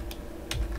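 A few quick keystrokes on a computer keyboard, two or three close clicks in under a second, with no talk over them.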